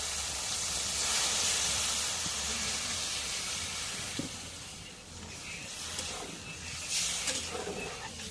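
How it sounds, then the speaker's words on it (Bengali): A steady hiss and sizzle of water poured into a pan of fish curry with fried fish, continuous and close throughout with slight swells, no voices. "এখন মাছটা কষানো হয়েছে, একটু জলে ফেলে দিই।"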